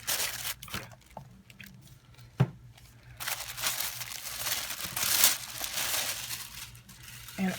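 Orange-yellow craft paper from a Stampin' Up! Paper Pumpkin kit crinkles and rustles as it is handled, with a few sharp snaps early on, then a steady, close crackling for several seconds.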